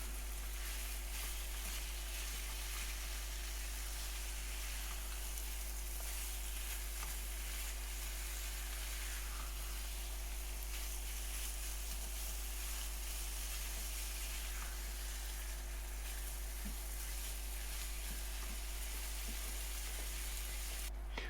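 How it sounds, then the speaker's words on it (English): Lamb pieces brown and sizzle in a hot pan as their fat renders, a steady, even frying hiss that runs unbroken from start to finish with no voices over it. "We're just going to brown and seal the lamb."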